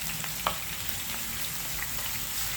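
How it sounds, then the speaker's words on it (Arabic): Garlic frying in oil, a continuous close sizzle and crackle with one brief clack early on, no talk. "نقعدو نقليو فيه كيما هكا. بعد ما تقلى الثوم"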